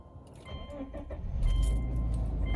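A 2005 Subaru Outback XT Limited wagon, noted for an unbalanced drive shaft and a worn front CV axle, heard from inside the cabin on a neighborhood drive, a faint jingle of keys giving way to a steady low engine rumble.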